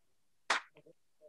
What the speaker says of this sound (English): I can clap really super duper slow.